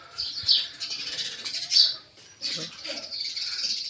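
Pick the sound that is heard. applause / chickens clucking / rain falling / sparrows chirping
sparrows chirping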